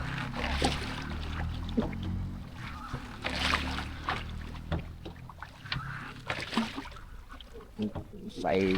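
Small rowboat paddled by hand on water during an early-morning boat trip in Thailand, with soft splashes and water swishes coming and going beneath intermittent nearby chatter.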